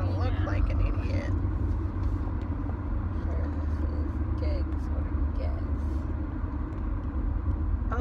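A car drives along a road in Florida, heard from inside as a steady, loud low rumble of engine and road noise that continues throughout.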